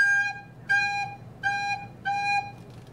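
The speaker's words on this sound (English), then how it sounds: "So an example of separated notes sounds like this." Recorder playing four separate tongued notes at the same pitch, evenly spaced, each a clear, pure held tone with short gaps between them, played alone.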